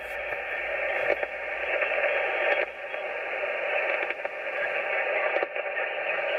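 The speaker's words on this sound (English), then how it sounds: "you'd think being out in the country it would be a quieter noise floor" Steady hiss and rushing static from an amateur radio receiver tuned to the 40-meter band out in the countryside, a broad constant noise floor broken by occasional faint crackles and pops, with no voice present.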